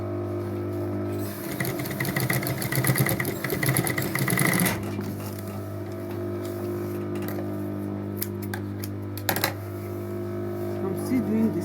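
A sewing machine stitching a school backpack strap, a fast mechanical whirr running for a few seconds over a steady background hum, with a person talking around it.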